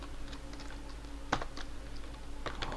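Quick keystrokes tap on a computer keyboard in short irregular bursts, close and clear over a low steady hum.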